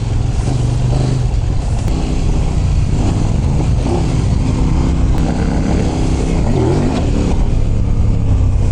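A Kove 800X Pro adventure motorcycle roars steadily through an off-road ride, its engine loud and close with constant wind rush. No one speaks over the dense, unbroken noise.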